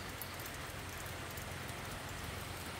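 Heavy rain falls over a rice field farm, a faint, steady wash of noise with soft patter and no talking.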